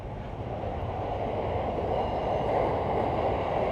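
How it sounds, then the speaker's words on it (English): Keihin Tohoku line train at Ueno station in Tokyo rolls past with a steady, broad rumble of wheels and carriages at moderate distance, swelling slightly toward the end, with no voices. "Oh, and you got the Keihin Tohoku line,"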